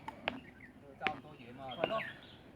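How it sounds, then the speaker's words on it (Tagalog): Faint bird chirps and short tweets ring out on a nature walk, several scattered calls over a soft outdoor background. "Ang huni ng mga ibon."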